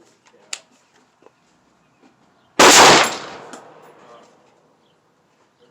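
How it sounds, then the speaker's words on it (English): One sharp, loud shot from a spring-powered blaster fitted with a hot white Springco spring and a maxed-out Works buffer, followed by a lingering decay, with a few faint clicks and handling noises before it. "First shots with the springco spring and the Works"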